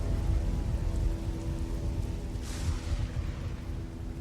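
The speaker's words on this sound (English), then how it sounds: "And it begins to rain." Steady rain hisses across the whole clip, conjured as a spell in a fantasy tabletop roleplaying game, with a low rumbling bed underneath and a brighter swell of downpour about halfway through.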